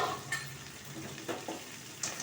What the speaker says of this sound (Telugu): ఇప్పుడు ఇది వేగనిద్దాం బాగా